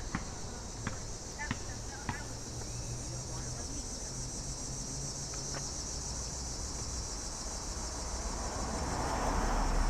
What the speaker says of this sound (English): I think that's a cicada.